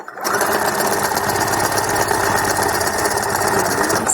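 A sewing machine runs continuously while stitching a taut, stretched leotard seam, a loud close rapid mechanical whirr that starts abruptly and holds steady without pause.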